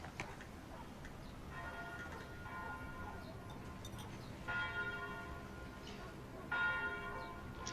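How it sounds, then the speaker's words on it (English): Church bells ring out in the distance, faint and overlapping, their tolls swelling a few times over a low background murmur. "I like the bells."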